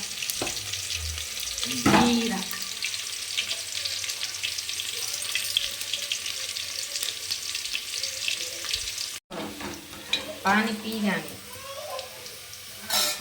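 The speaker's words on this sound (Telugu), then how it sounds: "ఆయిల్ హీట్ అయిన తర్వాత సన్నగా కట్ చేసుకున్న ఆనియన్ వేసుకోవాలి" Thinly sliced onion sizzles in hot oil in a home kitchen, a steady bright crackling hiss that continues throughout, with a person talking over it at moments and a brief stirring clatter.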